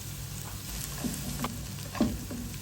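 Garlic and fried fish sizzle steadily in a pan while cooking for pasta in coconut milk, with a few faint stirring clicks over the even, close frying hiss.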